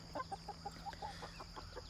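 Chickens clucking in a steady run of short, soft clucks, fairly close, over a constant background hum.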